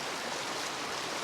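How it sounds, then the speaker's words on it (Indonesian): The Citarum river flows in a steady, broad rushing hiss of water, close and continuous, with no voices over it. "Ini Sungai Citarum guys."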